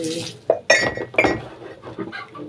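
Plates and glasses clink sharply as dishes are washed first thing in the morning, several bright knocks in quick succession followed by softer scattered rattles, close and clear with no talking.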